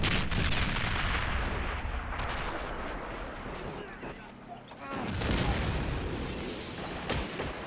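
Mortar and artillery fire in Call of Duty: World at War during a 2v2 match, dense continuous booming explosions and gunfire, loud and close, dipping briefly before surging again, with voices talking underneath.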